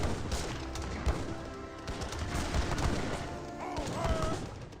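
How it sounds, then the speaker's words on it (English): Rapid Gatling gun fire rattles through a busy Age of Empires 3 battle, dense overlapping shots crackling steadily for several seconds amid clashing combat noise, moderately loud with no voices. "those walking on rifles getting annihilated by the Gatling guns"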